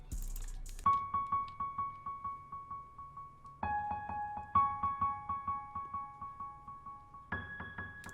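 A dark melodic sample loop with the highs filtered out and a delay effect added plays on its own, with sustained tones that shift in steps and rhythmic echoing pulses.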